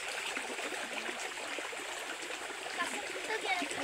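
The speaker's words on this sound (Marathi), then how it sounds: "धबधबा मस्त आहे" Water from a waterfall and stream rushes and splashes steadily close by, a dense continuous wash with small gurgles on top, while people talk faintly in the background during crab catching.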